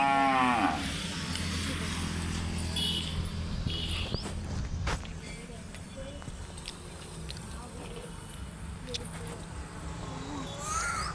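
A cow moos loudly and close by at a village house at the start. Continuous talking and steady outdoor background noise carry on throughout.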